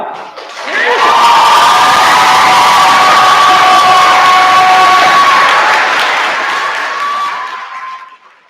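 A graduation audience at the Edmonds Heights Class of 2024 ceremony bursts into loud clapping, cheering and whooping that swells quickly, holds as a dense roar, then fades near the end.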